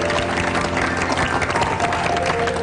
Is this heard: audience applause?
yes